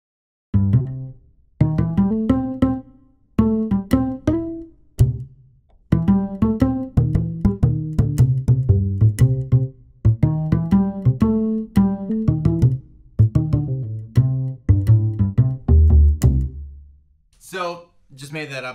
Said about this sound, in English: It is an upright bass sound, plucked upright bass.